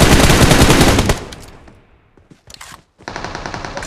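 Dense automatic gunfire from a multiplayer shooter video game, loud rapid bursts that stop, leave a few scattered shots, then resume in a sustained close volley.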